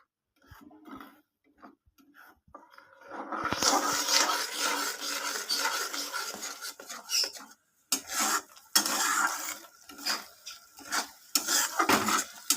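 Tomato paste being stirred into onion and spices in a pan for a rohu fish kalia, with quiet start-stop scraping and clinks of a spoon against metal, in short bursts separated by brief pauses.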